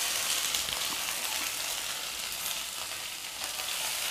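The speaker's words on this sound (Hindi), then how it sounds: "भिंडी को अभी अच्छे से फ्राई करेंगे" Okra sizzling steadily in hot oil with garlic and dried red chili, a dense, even frying hiss that stays loud and continuous with no voices.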